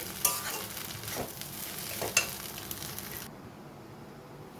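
Bombay duck fish frying and being stirred in a pan: a soft, quiet sizzle with a few scraping stirring strokes, then the sizzle thins out as the pan quiets.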